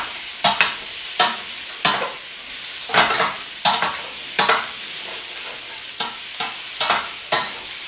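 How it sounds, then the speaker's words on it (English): Onions being stirred in a pot with salt, black pepper and Italian seasoning: a steady run of sharp spoon scrapes, about a dozen strokes in eight seconds, near and loud over a soft sizzle. "Give it a nice stir."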